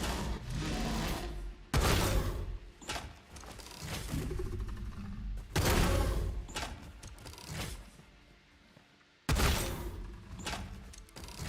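Shotgun fire in the video game Satisfactory during multiplayer combat, heavy booming blasts repeating every few seconds amid dense, loud, rumbling game action.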